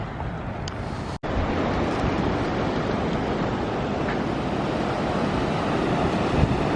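A steady, loud roar of ocean surf mixed with wind buffeting the microphone, continuous throughout apart from a brief dropout early on.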